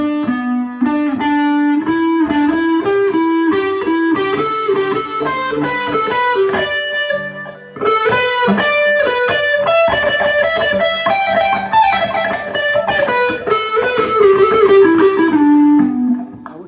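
Electric guitar through distortion plays rock licks, a continuous run of bent and sustained notes with a short break midway, loud and close with no talking.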